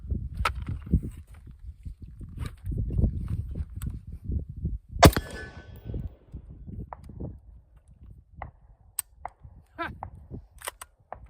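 A rifle fires a single .223 Scorpio round as one sharp, loud report partway through, surrounded by quieter handling clicks, knocks and rustling.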